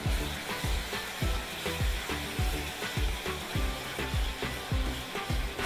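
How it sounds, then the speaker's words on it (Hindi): Spiced gravy with ring-cut soya chaap sautéing in a pan: a steady sizzle with regular scraping stirs at a brisk rhythm, close and fairly loud, no talk. "इन सबको हम एक बार और अच्छे से भून लेंगे"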